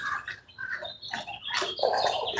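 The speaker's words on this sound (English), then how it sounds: "Listen to them birds." Birds chirping outdoors near a fishing spot, several bright tweets and calls overlapping at moderate distance, growing busier and louder toward the end, with no talking.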